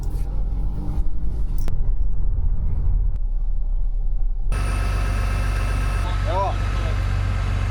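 A car and a farm tractor idle and run on a sheep farm, a steady low engine rumble that shifts in pitch partway through, with a short rising whine near the end and a voice talking over the engines.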